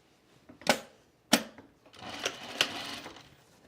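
Sewing machine joining the layers of a shirt yoke, right sides together, on a Friday Pattern Company Donny shirt: a couple of sharp clicks, then a short soft run of stitching at close range with no talk.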